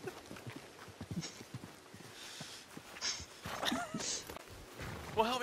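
Horse hooves clip-clop in Red Dead Redemption 2 at a walking pace, with irregular soft thuds and a snort or two. The hoofbeats are moderately close and faint, with occasional background noises.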